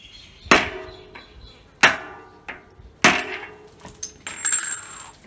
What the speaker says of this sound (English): we're just gonna give the top of this a couple of good whacks and get that bearing to set down in there